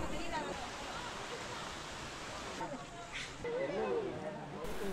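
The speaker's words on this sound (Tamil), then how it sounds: "தண்ணியோட இறைச்சல் சத்தம் உங்களுக்கும் கேட்கும்னு நினைக்கிறேன்" Water rushing steadily down the Sangilipparai mountain stream at Sathuragiri, running deep, makes a continuous, fairly close broadband roar with faint voices mixed in.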